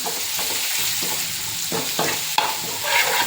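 Chili paste frying in hot oil until browned, a steady close sizzle with repeated stirring scrapes of a spoon against the pan, no voices.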